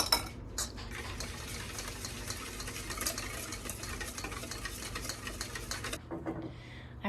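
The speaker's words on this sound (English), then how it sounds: "And again, I'm gonna give it a good mix." A utensil stirs crepe batter with melted butter in a bowl, a busy continuous scraping and clinking for about six seconds, close and fairly loud, then stopping.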